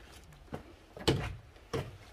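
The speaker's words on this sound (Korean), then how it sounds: "문을 예, 요렇게 열고 요걸 밑에서 들어서 여기다 거는 거예요" A traditional Korean wooden door at a historic house is opened and lifted, giving a few soft knocks and wooden thunks, with the loudest clunk midway and another near the end, close and fairly quiet.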